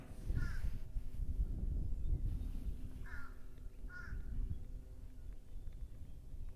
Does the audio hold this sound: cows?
no